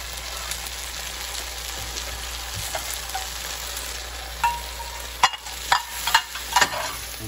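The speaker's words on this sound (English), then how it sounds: "you got to rub the bottom of the pan because sometimes the rice starts to stick at the bottom of the pan" Risotto rice sizzles steadily in a pan after fresh stock is poured in. Toward the end come several louder scraping strokes as a spoon works across the pan bottom.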